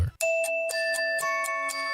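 Doorbell chime rings out clearly in a radio ad for a smart doorbell camera, a string of bright, ringing tones struck in steady succession and sustaining under one another, loud and close, with no talking.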